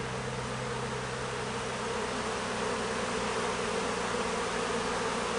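Honeybees buzz around a hive in a dense, continuous swarm drone that is loud and steady throughout, with no voices.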